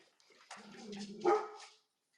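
A small dog gives a brief yappy bark and whine, faint and slightly distant over a remote audio call, with no talking.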